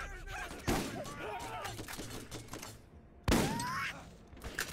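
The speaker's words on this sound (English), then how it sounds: "That shotgun." Shotgun blasts in the Borderlands video game come as sharp booming reports with rattling tails, two standing out among scattered in-game impacts and effects at moderate loudness.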